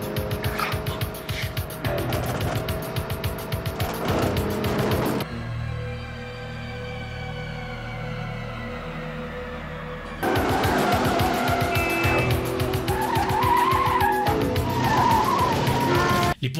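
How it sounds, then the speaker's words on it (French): Cars race in the chase scene of the film To Live and Die in L.A., engines roaring and tires squealing, with a quieter stretch of tense music and rumble in the middle before the loud engine noise and skidding return. "Poursuite en bagnole sont le fer de lance de William Friedkin"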